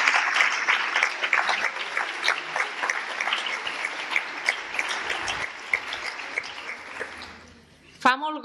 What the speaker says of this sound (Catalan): Sisplau, un aplaudiment a tots ells que van fer possible.